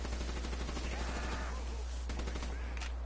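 Rapid gunfire aimed at zombies in a video game, a dense stream of shots over a constant loud hum, with a voice calling out partway through.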